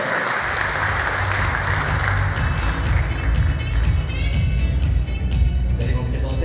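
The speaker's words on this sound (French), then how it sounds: "On applaudit, quand même." Audience applause fills a conference hall at a forum closing session, a dense, steady clapping from a large crowd that stays loud and continuous throughout.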